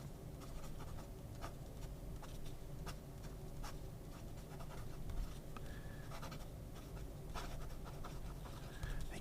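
Fountain pen with a fine nib writing on Cosmo Air Light paper, faint scratchy strokes and small ticks repeating close up over a steady low background hiss.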